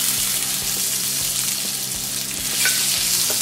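White butter sizzles in a hot kadhai over a gas flame, a steady close hiss with light clinks and scraping, no voices.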